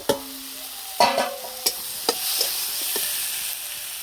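Potatoes hit hot oil and fry alongside cabbage for an egg curry, with a steady soft sizzle carrying through and several sharp clanks and scrapes of a stirring utensil against the pan, no voices.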